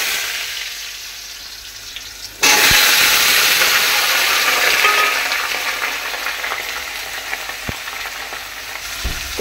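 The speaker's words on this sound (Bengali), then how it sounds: "এবার আমি আলুগুলোকে ভালো করে ভেজে নেব" Potatoes hit a hot pan and fry with a sudden loud sizzle that holds as a steady, close crackle, with occasional clinks of utensils.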